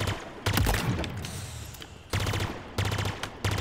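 Rapid weapon fire rings out in Halo Infinite's multiplayer academy weapon drills, in three bursts of quick repeated shots broken by short pauses. The shots are mid-loud, with no talking over them.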